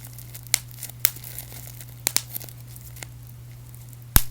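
Bubble wrap popped by hand in sparse, sharp snaps: a few scattered single pops and close pairs, with one louder pop near the end, over a steady low hum and no talking.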